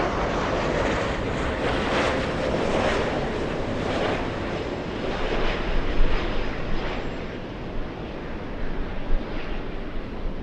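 Broadband jet roar from an Alaska Airlines Boeing 737 at Los Angeles International Airport, a steady loud wash of engine noise with wind buffeting that swells slightly midway, no voices.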